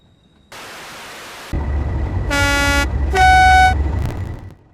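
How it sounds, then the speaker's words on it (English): A Class 37 diesel locomotive in Europhoenix livery, in the game Train Sim World 4, gives a broad hiss, then a deep engine rumble, two loud horn blasts with a brief gap between them, and a final short tone. "This is my updated review on the Class 37 diesel locomotive in Europhoenix colours."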